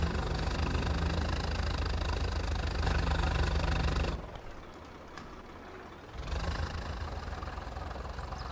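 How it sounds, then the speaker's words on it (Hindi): A tractor engine runs in the Farming Simulator 22 game, a steady, loud mid-pitched drone that drops quieter for about two seconds before returning to full level, with no voices. "तो ये कंपनी वाला ट्रैक्टर है दोस्तों"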